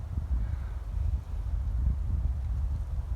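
Steady low wind rumbling and buffeting against the microphone, continuous and fairly loud throughout with no voices.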